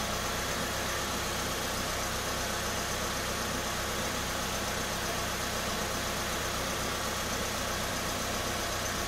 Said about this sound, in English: I just restarted the vehicle.